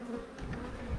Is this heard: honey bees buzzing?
yes